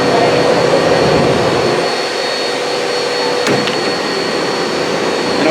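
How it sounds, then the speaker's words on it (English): Coolant pumps of a Brother HS70A wire EDM machine running, a loud steady mechanical hum and whir close by, continuous throughout with a brief knock midway. "Back of the pumps, coolant pumps"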